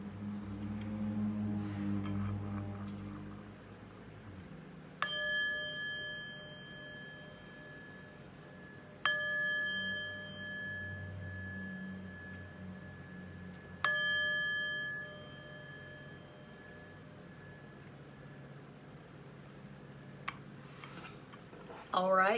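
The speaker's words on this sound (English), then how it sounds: "But first, let's chime." Chimes ring before a tarot reading, four clear metallic strikes spaced several seconds apart, each ringing out and decaying slowly over a soft low background.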